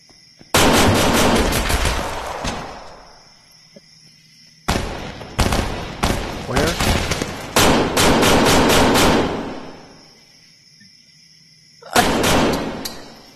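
Gunfire in the VR shooter Tactical Assault VR: loud bursts of rapid automatic shots in three separate volleys, a long one at the start, a heavier stretch in the middle and a short final burst, with quiet gaps between.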